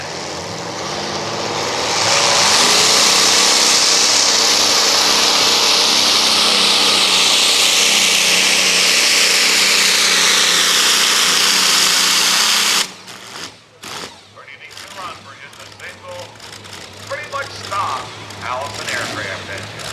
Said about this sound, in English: Allison aircraft engine.